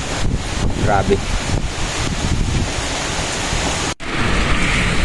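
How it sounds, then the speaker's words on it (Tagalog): Strong typhoon wind lashes plants outdoors, a loud continuous roar with gusty surges and microphone buffeting, a brief cutout near the end, and a voice exclaiming briefly over it. "Dahil ayan oh, kung hampasin ng hangin ay talagang"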